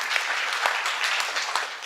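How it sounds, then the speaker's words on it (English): An audience at a talk applauds steadily, the dense clapping holding at an even, moderately loud level throughout with no voice over it. "I know, and you will applaud,"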